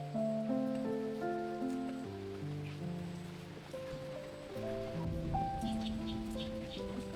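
Steady rain falls in a rural Vietnamese setting, a soft continuous patter heard under sustained background music with tonal layers, no talking.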